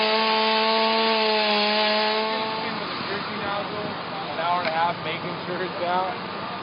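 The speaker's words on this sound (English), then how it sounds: "The chainsaws now come into play for ventilation and material removal." Chainsaws cutting into the structure at a mattress outlet fire, a steady engine drone that shifts into rough, grinding bursts as the blade bites into material, with voices of the fire crew audible in the background.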